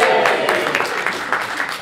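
An audience at a talk lets out a short, loud cheer, a brief burst of crowd voices and noise that fades quickly.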